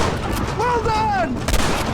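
Shotgun fire in the Red Dead Redemption western video game comes through as a brief booming burst near the end of a short stretch of game sound, with a thin whistling tone drifting before it.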